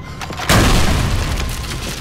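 A grenade blast in a first-person shooter game, running under emulation: one sudden loud boom that rolls on as a sustained rumbling roar for over a second.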